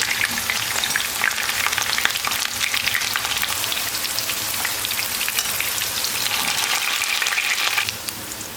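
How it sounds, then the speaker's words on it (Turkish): Eggplant pieces frying quickly in hot oil, a steady, loud crackle and sizzle that runs throughout and softens slightly near the end. "Bunları da aynı şekilde hızlıca kızartayım"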